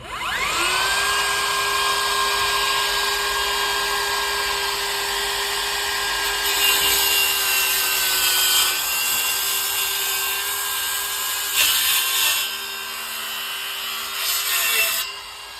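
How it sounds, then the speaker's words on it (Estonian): A plunge saw starts up with a rising whine and settles into a loud, steady high-pitched drone as it sinks into wood and cuts along a marked line, its pitch dipping briefly under load near the end. "nüüd kui panen sae käima, siis ta vajub ülevalt alla ja teeb selle lõike nagu uputussaag."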